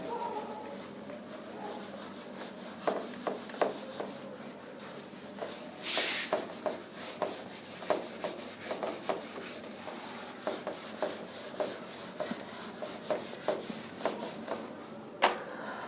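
Chalk diagrams erased from a blackboard during an optics lecture: a steady run of soft, rhythmic rubbing strokes, fairly quiet and close, with a brief louder swipe midway and no talk.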